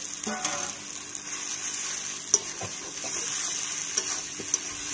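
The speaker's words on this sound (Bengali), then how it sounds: "ভালো করে নেড়ে চেড়ে মিশিয়ে নিচ্ছি" Fried boiled potatoes are stirred into spices frying in a pan, giving a steady close sizzle with scattered clicks and scrapes of the spoon and no talking.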